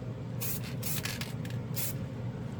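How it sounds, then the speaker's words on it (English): Close hissing bursts from an acrylic spray paint can, several short fine sprays in quick succession over a faint steady background hum. "this spray is much finer than the the other one"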